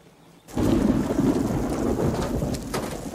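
Heavy rain and a rumbling thunderstorm burst in loudly after a brief quiet moment, a dense wash of downpour with thunder rolling through it.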